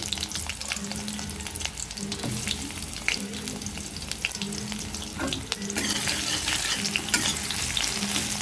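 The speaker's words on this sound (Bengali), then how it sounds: "পেঁয়াজটাকে একটু হালকা করে ভেজে নিয়ে" Chopped onion fries in oil with dried chilli and cumin: a continuous close sizzle broken by repeated stirring scrapes, growing louder and denser toward the end.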